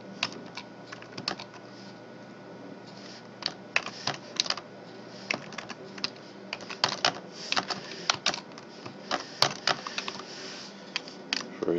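Someone types on a computer keyboard at close range, giving scattered clusters of light key clicks with short pauses in between and no talking.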